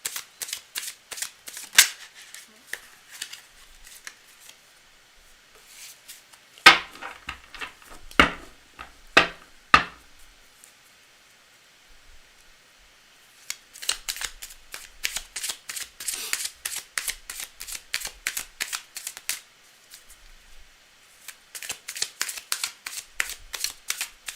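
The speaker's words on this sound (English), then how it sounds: "Alright, cards are well shuffled." Tarot cards are shuffled by hand in bursts of crisp, rapid riffling and tapping, with a quiet pause between the bursts; the cards are close and there is no talk.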